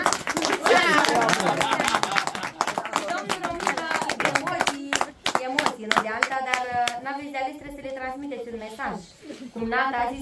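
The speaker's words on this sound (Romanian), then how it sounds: "Hai să mai aplaudăm încă o dată." An audience at a musical event at a mountain cabin applauds in a burst of dense clapping near the start, then a voice speaks over scattered claps and singing follows.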